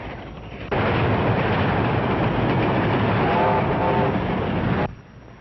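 A loud, rumbling train roars past for about four seconds, a heavy continuous clatter that starts and cuts off abruptly.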